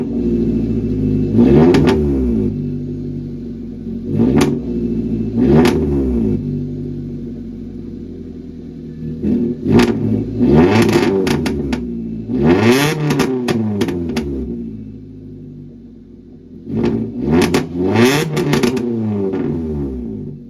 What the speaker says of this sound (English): I'm gonna give you guys a couple revs.